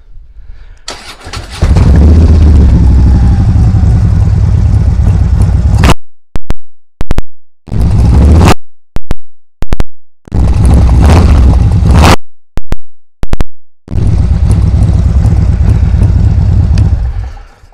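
A 2016 Harley-Davidson CVO Road Glide Ultra motorcycle starts with a keyless start and idles loudly and close, then is revved in a series of sharp throttle blips that fall silent in between before it settles back into a steady idle.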